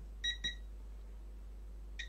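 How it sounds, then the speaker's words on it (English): A multimeter or continuity tester in beep mode on a bench repair of a faulty laptop and PS5, giving short high electronic beeps: two quick ones close together, then another after a pause, over a low steady mains hum. "let's switch to the beep mode."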